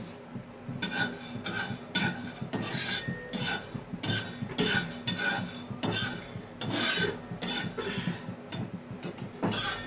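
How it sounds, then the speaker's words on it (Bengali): Cardamom, white pepper, cloves and a little mace dry-roasting in a pan, with a steady run of dry scraping and rasping strokes as the spices are stirred and pushed around the metal surface, close and continuous. "এগুলোকে ফ্রাই রোস্ট করে নেব।"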